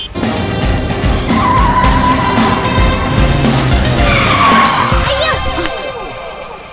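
A car brakes hard and its tires skid in a loud, close screech with squeals that rise and fall over engine rumble for several seconds, then fade out.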